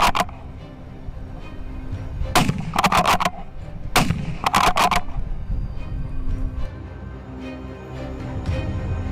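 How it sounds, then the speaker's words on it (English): Rifle shots ring out during a wild boar hunt, a loud sharp crack followed by quick clusters of shots, echoing outdoors over steady background noise with no talk. "I adjust my focus, aim carefully, and squeeze the trigger. The shot rings out as expected, sending the boars into a panic."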